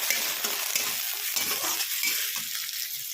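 Onions and green peas fry in a pan for a baigan bharta, a steady close sizzle with bursts of stirring and scraping, no voices.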